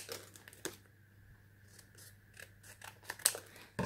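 Scissors snip around a printed paper image, a few soft, quiet cuts with faint paper rustling between them, heard close up with nothing else in the background.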